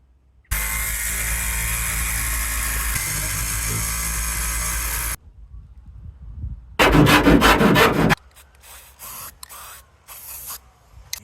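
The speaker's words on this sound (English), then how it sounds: "it's got to be wide enough for the jigsaw to go through, which also needs to be able to cut through hard metal" A jigsaw cuts through the hard metal roof of a camper van for a skylight opening, a loud steady rasping buzz for several seconds, then a pause, a second harsh burst of cutting, and scattered quieter clatter and scraping afterwards.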